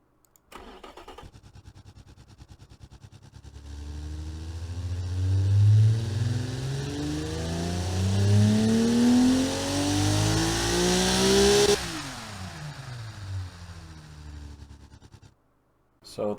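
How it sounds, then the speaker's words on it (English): A car engine built in the Automation video game starts up, then revs steadily higher and holds a loud, rising whine before dropping back toward idle and cutting out. No one speaks. "So that's an engine."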